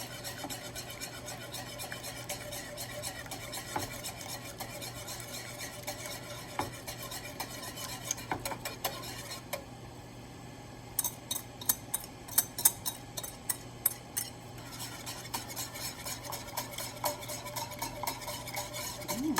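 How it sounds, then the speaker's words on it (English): Egg yolk and sugar being stirred into milk for crème brûlée, a soft continuous scraping swirl with a run of quick light taps of utensil against the bowl near the middle, close and quiet. "I keep on stirring the mix."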